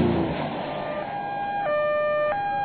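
An ambulance siren sounds in a clear two-tone pattern, stepping between high and low pitches, steady and fairly loud against a faint traffic hum.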